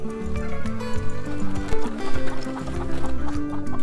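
Rooster and poultry on a farm near a goat house, loud close clucking and crowing calls in quick repeated bursts, with no talk.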